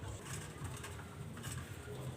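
A pair of golden pigeons coo in low, continuous murmuring tones, close by and fairly quiet, with faint background noise.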